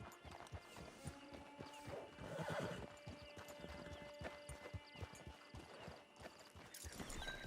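Horse hooves clip-clop steadily over ground in Red Dead Redemption 2, with a whinny partway through, over a busy backdrop of ambient game sounds.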